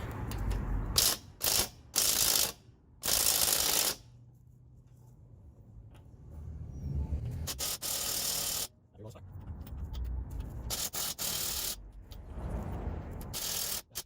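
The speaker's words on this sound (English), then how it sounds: "I got some impact driver sets on a battery powered impact wrench" Battery-powered impact wrench on the lug nuts of a Ford Explorer, close bursts of hammering whir starting and stopping, with a longer run near the end and some background noise between.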